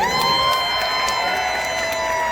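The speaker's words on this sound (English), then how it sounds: "let's have one final round of applause for the stars of our show" A crowd at a county fair pig race cheers and claps together, a sustained wash of voices and applause with scattered whoops, steady and moderately loud.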